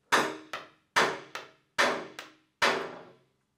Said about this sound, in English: He's pounding it into place.